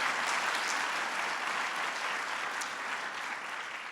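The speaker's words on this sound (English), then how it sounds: "So please give them a big round of applause." Steady, dense applause from a large audience at a presidential entrepreneurship summit, honoring Commerce Secretary Gary Locke and Secretary of State Hillary Clinton, sustained evenly throughout without a break.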